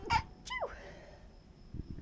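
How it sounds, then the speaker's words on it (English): A single sneeze bursts out close by, followed by a brief breathy sound, in a quiet indoor room. "Oh, I'm gonna sneeze."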